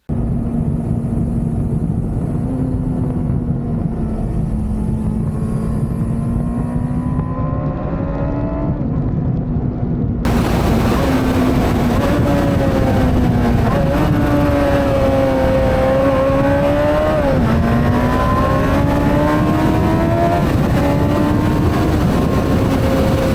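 Kawasaki ZX6 motorcycle ridden with the camera mounted on its windscreen: a loud, steady engine drone rises and falls in pitch with the throttle, with rushing wind noise growing stronger partway through.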